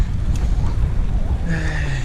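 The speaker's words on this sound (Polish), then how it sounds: "No wiatr przeszkadzał mocno, porywy dosyć silne" Strong gusty wind hits a cyclist riding in the countryside around Zduńska Wola, producing a loud, continuous low roar of buffeting against the microphone that swells and drops with the gusts.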